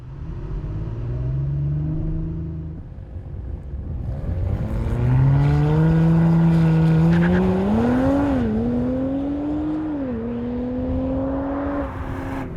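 A 2023 Audi RS5 Competition V6 sports coupé on a race circuit, its engine revving and rising through the gears, loud and close with a rumbling tone, running continuously with no talk.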